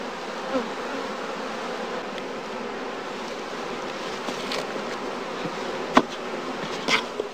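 Honey bees hum in a dense, continuous drone at a heath skep apiary during afterswarm season. The close, steady buzz has a few sharp clicks and knocks over it.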